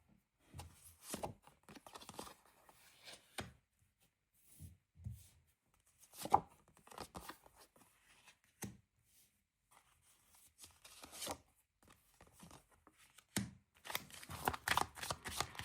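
Tarot cards being shuffled by hand, soft intermittent riffling and sliding bursts separated by pauses, quiet and close, with a denser flurry near the end.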